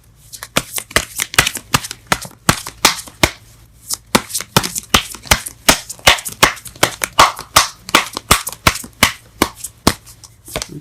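Tarot cards are shuffled by hand in a fast, regular run of crisp riffling slaps and flutters, close and loud, repeating steadily for several seconds.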